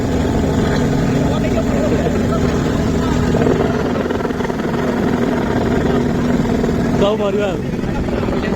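A helicopter arriving over a village in Jajpur, Odisha gives a loud, steady rotor and engine roar across the whole stretch, with an excited crowd shouting and talking beneath it.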